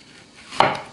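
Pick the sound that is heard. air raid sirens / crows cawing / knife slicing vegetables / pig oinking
knife slicing vegetables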